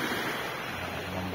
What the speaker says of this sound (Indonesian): Beginilah Pantai Kapik yang begitu indah.